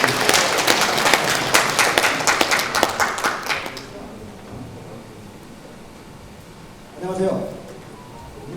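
Applause at a delegates' orientation meeting, dense clapping for about four seconds before it fades into room noise, then a brief voice near the end.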